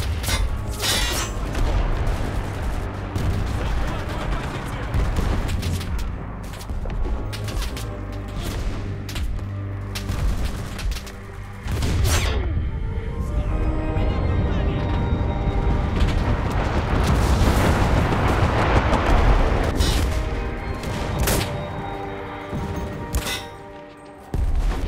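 Urban combat in Enlisted, a World War II shooter, fills the air with repeated gunshots and deep explosion booms over a continuous rumbling din, loud and sustained throughout with sharp reports scattered across the span.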